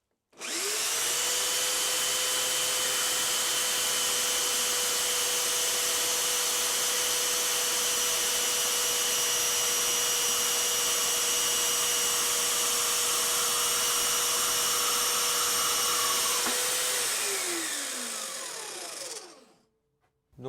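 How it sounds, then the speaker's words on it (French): A Parkside PMB 1100 B2 metal band saw cuts through 30x30 metal stock with a steady, loud whining drone and constant blade hiss that runs unbroken for about seventeen seconds, then winds down as the motor stops. "je laisse travailler la machine, c'est la lame qui descend dessus, j'appuie jamais"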